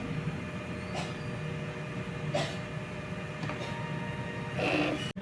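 A DTF printer hums and whirs steadily through a head clean, with faint mechanical clicks and brief pump or carriage noises, ending in a sharp clack close by.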